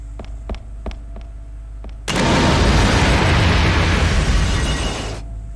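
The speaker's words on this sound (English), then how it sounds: "I'm gonna need to use a bomb to get past that." A bomb detonates in the video game Carrier with a sudden loud, broad blast that roars for about three seconds before cutting off, after a few soft clicks.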